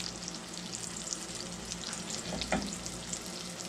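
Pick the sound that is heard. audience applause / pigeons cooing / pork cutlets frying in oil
pork cutlets frying in oil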